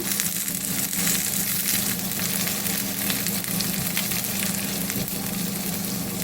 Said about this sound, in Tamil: எல்லாம் போட்டு நல்லா வதக்கி விட்டுறலாம்